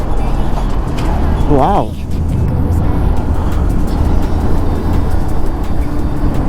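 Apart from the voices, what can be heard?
highway traffic while overtaking a truck on a Ray Z scooter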